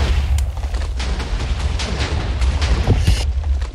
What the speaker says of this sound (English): Oh, my cannon's gonna blow up again.